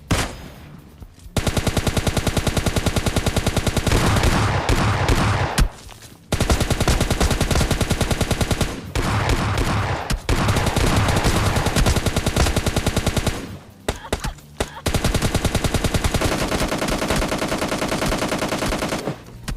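Rapid automatic gunfire rattles loud and close in PUBG Mobile Lite, long sustained bursts broken by brief pauses.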